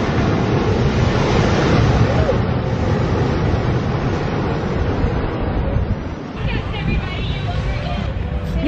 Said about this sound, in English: So we're at the ocean front right now